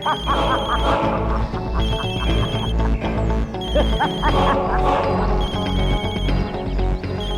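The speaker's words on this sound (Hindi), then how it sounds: "तुम्हारा फोन बज रहा है।" Mobile phone ringtone repeating in clear bursts, a bright tonal ring pulsing on and off, mixed with tense background music and people talking over it.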